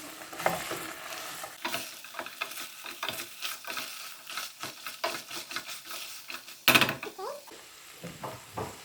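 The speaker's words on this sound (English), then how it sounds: "And then we stir it well, because the onions and the tomato paste is at the bottom." Onions and tomato paste stirred in a pot for Turkish white bean stew: a quiet, soft sizzle with irregular scraping strokes of a spoon and a brief louder clank of utensil against the pot.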